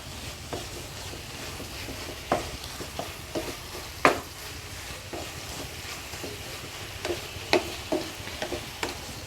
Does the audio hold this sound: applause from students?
no